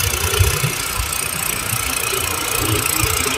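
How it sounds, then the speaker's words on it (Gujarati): A Massey tractor engine runs in a field with a steady, rough diesel chug and a low knocking pulse throughout a few seconds of continuous noise, with no voices. "ઓલું ટ્રેક્ટર આડું નડતું હતું એટલે ઊભું રાખી દીધું."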